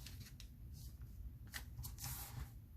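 Paper being folded by hand for a handmade document-style journal, close and quiet, with soft crinkling, rustling and a few sharper creasing swishes.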